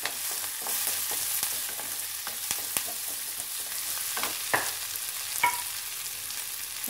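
Curry leaves fry in hot oil in a pan for a Sunday lunch spread, giving a steady close sizzle with scattered sharp pops and crackles throughout, no talking.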